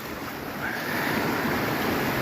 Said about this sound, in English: This is like right where the waves meet too, from that side and this side.